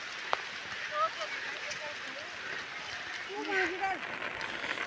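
Rain falls steadily outdoors on the road home, a broad hiss of drops hitting surfaces, with faint brief chirps and a small tap or two over the top.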